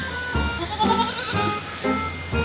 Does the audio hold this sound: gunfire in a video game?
no